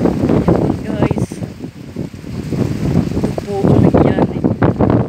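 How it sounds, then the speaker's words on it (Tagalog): Strong wind roars steadily during heavy rain in Dubai, a broad blustery rush with buffeting on the microphone, while people talk over it throughout. "Ayan, lakas ng hangin."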